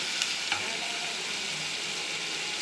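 Dried fish sautéing in hot oil in a pan, giving a steady, close, continuous hiss and sizzle with a couple of faint utensil clicks and no voices.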